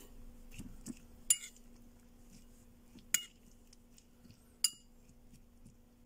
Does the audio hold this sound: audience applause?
no